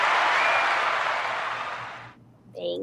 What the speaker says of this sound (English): That was our audience applauding for you.